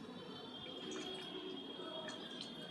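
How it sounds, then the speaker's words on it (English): A kerchief is dipped into water, giving faint, sparse drips and soft liquid trickles over a quiet background hiss, with no talking. "So I'm going to dip in the water"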